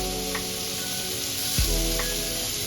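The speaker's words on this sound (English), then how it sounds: "now we're going to go ahead and throw our shrimp and mushroom on there" Shrimp and mushrooms sizzle steadily on a grill with a constant close frying hiss, broken by a soft knock and a couple of faint clicks.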